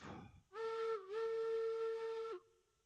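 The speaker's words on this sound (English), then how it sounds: "let's whistle off" A steam locomotive whistle sounds in the railroad game Railroads Online, one clear sustained blast that briefly dips in pitch near its start, then holds steady before cutting off, with no talking.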